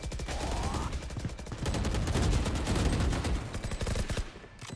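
Rapid automatic gunfire in the video game Valorant during a tournament semi-final, dense overlapping bursts of shots rattling continuously and loudly over a busy match soundscape.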